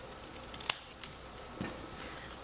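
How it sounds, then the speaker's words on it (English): Scissors snip through patterned paper with a wood-grain side and a grid side, cutting diagonally; one sharp close snip stands out, followed by a couple of fainter cuts in a quiet room. "I am just going to take it and cut it diagonal."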